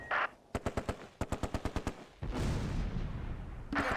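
Heavy gunfire in the wartime strategy game Close Combat: A Bridge Too Far, set at Driel during Operation Market Garden: two loud rapid bursts of machine-gun shots, then a dense roar of sustained fusillade and a final sharp crack.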